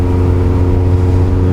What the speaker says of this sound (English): there's nothing better rocking up to your office with those loud exhausts